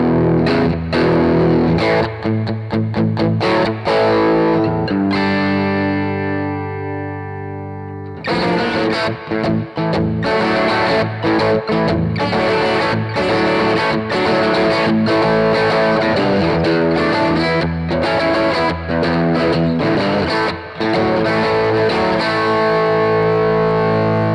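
Electric guitar played through an amplifier with the gain turned up, giving a loud, saturated distorted tone; chords and single-note runs ring out with a brief sustained held note midway, steady and dense throughout.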